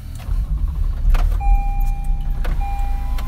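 Steady low rumble inside a moving car, with engine and road noise droning continuously and a faint whine briefly rising over it, no talk.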